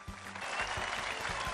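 A short burst of group clapping from children and presenters on a children's magic show, light, uneven claps rising into a steady patter over about a second and a half, moderately close.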